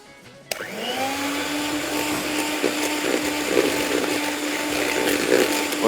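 An electric mixer beating icing sugar and butter starts abruptly and holds a steady, loud whirring drone with slight bumps as the beaters churn the mixture.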